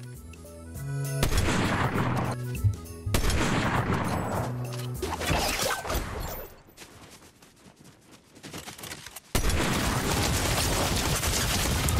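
Loud, dense gunfire from a shooter video game, with repeated sharp shots and booms running almost without a break, briefly dropping before a heavy burst returns.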